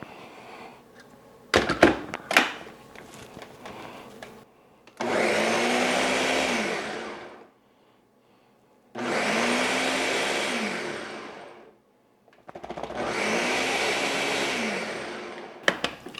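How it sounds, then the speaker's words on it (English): A blender purees chili verde sauce mix for smoked pork chili verde in three loud, even bursts separated by short silences, after a few sharp clunks of the machine being set up. "I'll get this covered up, get it on the machine and blend it out."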